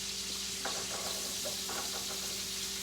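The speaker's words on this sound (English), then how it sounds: "I'm fixing to take this onion and let it go on and cook some while that bacon is finishing out" Onion and bacon sizzling together in a hot skillet, a steady frying hiss with a few scattered stirring scrapes and light knocks, fairly quiet and with no talking.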